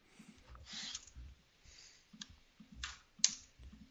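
Computer keyboard typing and mouse clicking during Microsoft Office work, close and quiet in short bursts of keystrokes separated by pauses, with a sharper click near the end and no talking.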